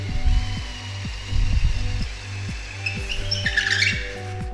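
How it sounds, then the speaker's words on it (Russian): A power drill bores a hole in aerated concrete to take a nylon dowel, a steady close whirring drone with a repeating rhythmic pulse, surging louder in short bursts, with no talking. "Я делаю отверстие в газобетоне под наш нейлоновый дюбель."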